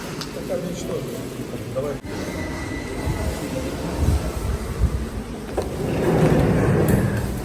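Steady rumbling hum of a train at a station, with a broad mechanical drone, a brief clunk, and the noise swelling toward the end.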